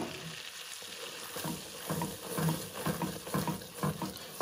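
Flour is stirred into butter, nutmeg and ground cloves in a pan, giving soft sizzling under scraping stirs and small knocks, quiet and close, with a faint watery hiss.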